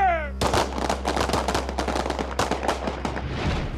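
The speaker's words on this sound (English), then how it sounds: "the officers will have to shoot in a low light scenario" Police officers firing handguns during low-light night training, rapid crisp gunshots cracking one after another in quick succession, loud and close, with a short shouted command or whistle-like tone just before the volley.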